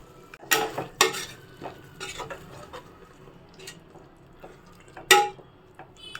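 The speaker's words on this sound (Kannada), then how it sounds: "ಮಶ್ರೂಮ್ ಒಂದು ಫಿಫ್ಟಿ ಪರ್ಸೆಂಟ್ ಬೆಂದಿದೆ ಇವಾಗ ಅಕ್ಕಿ ಸೇರಿಸ್ಕೊಳ್ಳೋಣ ಇದಕ್ಕೆ ಒಂದ್ಸಲ ಮಿಕ್ಸ್ ಮಾಡಿಬಿಟ್ಟು" Mushrooms being stirred in a pot for mushroom donne biryani: a spoon scrapes and clanks against the metal, with several sharp knocks and a light sizzle underneath.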